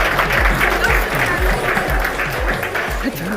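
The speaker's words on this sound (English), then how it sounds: "please give yourselves a round of applause for investing in yourselves" Audience at an investment event applauds, steady dense clapping through the whole moment, loud and close, with some rhythmic low thumps and a bit of voice underneath.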